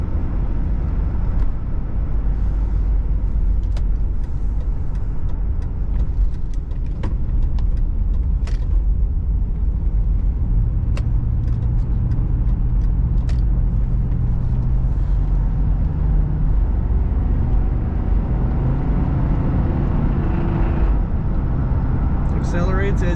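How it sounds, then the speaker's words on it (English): A 1994 Cadillac Fleetwood Brougham accelerates smoothly with a steady, low engine hum from inside the cabin, rising gently in pitch toward the end. "Accelerates as you would expect."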